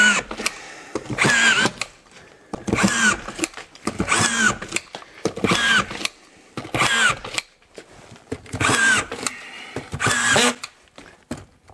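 Cordless screwdriver driving screws through drywall into a wooden batten, seven or so loud whirring bursts of a few seconds each separated by short pauses, close by with no talking.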